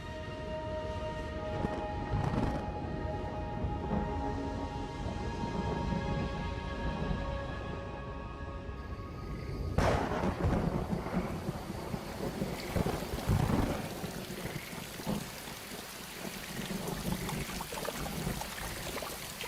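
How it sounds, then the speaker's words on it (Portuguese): Rain falls over the Pantanal plain in a steady hiss. A sharp crack of thunder breaks in near the middle and then rumbles away, with soft background music under the storm early on. "A chuva já estava caindo nas montanhas ao redor e agora chega ao Pantanal propriamente dito."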